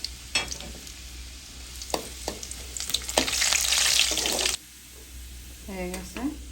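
Panch phoron and chopped garlic drop into hot oil for a tempering, bursting into a loud, hissing sizzle that lasts over a second, with a few clinks before it and a brief voice afterward.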